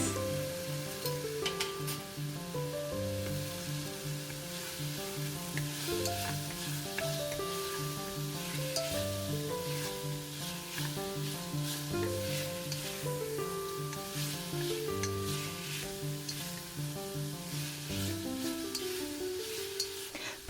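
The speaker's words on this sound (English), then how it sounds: "Put 1 teaspoon of cooking wine and stir them for 30 seconds." Pork curry being stirred in a pan after cooking wine is added, a continuous sizzle with stirring noises running under prominent melodic background music.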